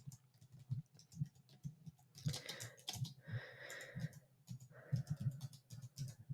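Rapid, soft clicks from typing on a computer keyboard, with a quiet, irregular rhythm and occasional bursts of faster keystrokes.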